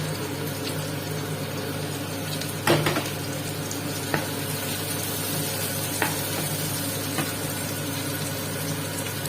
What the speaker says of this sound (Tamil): போட்டு நல்லா கொஞ்சம் வதக்கிக்கலாம்.